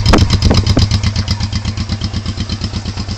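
A cold motorcycle engine catching on start, then settling into an even, rapid putt-putt idle that is loud and close, with clattering during the first moments.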